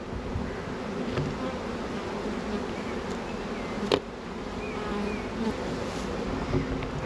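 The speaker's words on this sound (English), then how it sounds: "but there's bees going in and out of this hive here" A summer honeybee swarm around beehives makes a dense, steady buzz of many insects all through the clip, with occasional louder passes close by.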